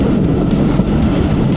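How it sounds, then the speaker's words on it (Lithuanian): Close, steady low rumble of a train slowing on its approach to a station stop, with faint rolling clatter. "Traukinukas lėtėja."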